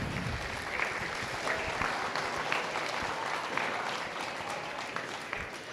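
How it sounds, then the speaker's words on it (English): Applause from an audience at a 2024 swine showmanship contest, a steady wash of clapping sustained for about six seconds at moderate distance, with no talk over it. "Well, let's give this group a big round of applause."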